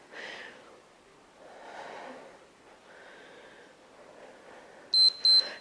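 A workout timer gives two short, bright electronic beeps near the end, after a stretch of faint breathing and room noise.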